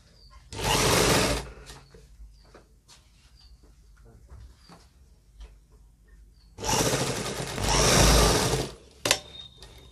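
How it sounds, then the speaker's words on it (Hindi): Sewing machine stitching the back pocket of a gents' pant, two loud close bursts of steady whirring stitching separated by a quieter stretch of handling and fabric clicks. "अब दोनों तरफ इस प्रकार टांका लगा लें दोस्तों।"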